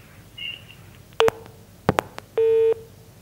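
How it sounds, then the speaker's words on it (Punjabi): A phone line during a call-in broadcast disconnecting: a few sharp clicks and short tone bursts, then a steady busy-tone beep, clear and alone on a quiet line. "ਫੋਨ ਵਾਰ ਵਾਰ ਕੱਟੇ ਜਾ ਰਹੇ ਨੇ"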